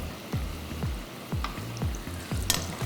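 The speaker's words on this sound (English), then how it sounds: "I'm just going to give this a nice stir." Mooli kofte frying in oil and being stirred in a pan, a background sizzle with a run of soft, regular thumping strokes about every half second, close and moderate, no voices.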